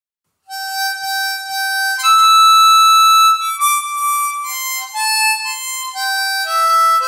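Harmonica playing a phrase of Oh Danny Boy, a slow melody of sustained blown and drawn single notes stepping up and down, close and steady with no voices.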